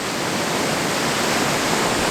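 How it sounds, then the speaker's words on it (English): A waterfall in the Nantahala National Forest of North Carolina roars in a dense, steady, unbroken wash of loud noise, close and alone with no other sounds. "I don't know if you can hear me over the waterfall."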